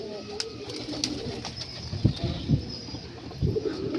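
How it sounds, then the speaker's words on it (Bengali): Pigeons of mixed bloodlines kept in a loft coo softly and flap their wings in a few short bursts, with faint chirps and background murmur. "বিভিন্ন রকমের ব্লাড লাইনের পায়রা আছে এখানে"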